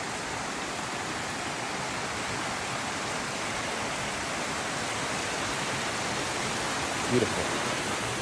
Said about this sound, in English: we got this riparian area right here, obviously with the amount of water coming through